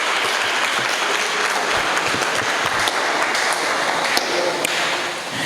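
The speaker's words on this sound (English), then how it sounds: "I think we have to give him a hand of applause" Sustained applause from an audience at a table tennis show for a player, dense steady clapping close by with no break throughout.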